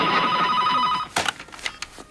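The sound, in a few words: telephone ringing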